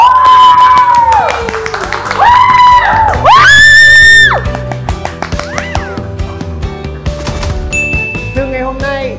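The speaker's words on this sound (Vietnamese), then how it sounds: "Xuất sắc, vỗ tay đi mọi người." A studio audience cheers and applauds, with loud whoops and shouts over steady clapping and sound-effect tones, the clapping tapering into scattered claps.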